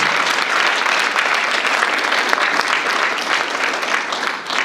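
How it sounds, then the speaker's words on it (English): Sustained applause from a seated audience at a Black History Month brunch, a dense, even wash of many hands clapping for the full few seconds with no talk on top. "Round of applause to them."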